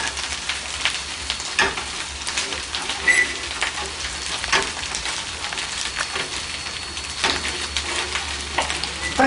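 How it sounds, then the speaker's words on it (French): Food simmers and sizzles in a pot as a continuous crackling hiss at moderate level, with scattered pops and a few soft stirring knocks. "Dès qu'il mijote un petit peu comme ça, il ne faut pas le lâcher."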